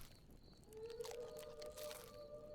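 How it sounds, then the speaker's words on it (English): A wolf howl from The Last Plague: Blight rises as a long, sustained tonal wail that holds and wavers at a distance, faint against a low background hiss. "That's why I kept calling them wolves, because that's a wolf howl."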